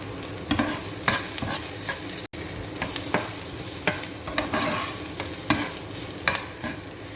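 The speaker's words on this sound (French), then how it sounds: "je fais rissoler les oignons" Onions brown in a frying pan with a steady sizzle, broken by regular scraping strokes of a stirring utensil against the pan.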